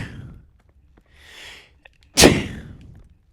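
A single sharp, loud sneeze bursts out near the middle, preceded by a faint breathy intake and trailing off into low noise, heard over quiet game-like background sounds.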